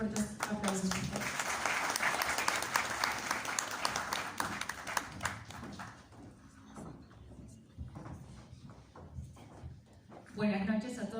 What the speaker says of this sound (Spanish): La recibamos con fuertes aplausos, por favor.